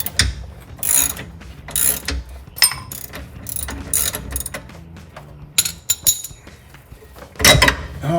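Ratchet fitted with a 15mm socket clicking in repeated quick bursts as it turns bolts on a Jeep Wrangler TJ, close and crisp with short pauses between strokes.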